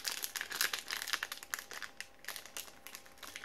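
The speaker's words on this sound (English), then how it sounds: "the reason I'm using the scissors is because the packaging is very, very hard to open with bare hands" Card pack packaging for the Tekken Card Tournament game being cut open with scissors, giving a close, faint run of crinkling plastic and soft snipping rustles, heard alone.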